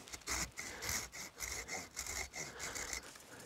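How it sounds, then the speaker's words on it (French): Hand saw rasping back and forth through cherry rootstock in a steady rhythm of about seven strokes, close and moderately loud, no speech. "Hop, prendre la scie."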